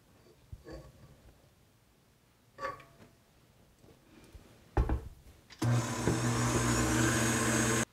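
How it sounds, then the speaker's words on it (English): Stand mixer fitted with a whisk attachment switching on at speed to whip cream, a steady loud whirring hum after a few quiet clicks and bumps. "I've got my mixer here fitted with my whisk attachment because the first thing I'm going to do is whisk my whipping cream until stiff"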